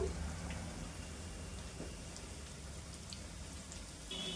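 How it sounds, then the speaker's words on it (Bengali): Potato and chana dal pakoras fry in oil with a continuous soft, rain-like crackling sizzle throughout, and no voices. "এভাবে উলট পালট করে 4-5 মিনিট ভেজে নিব লালচে লালচে করে।"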